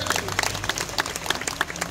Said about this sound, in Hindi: तालियां होनी चाहिए मेरे बच्चे को।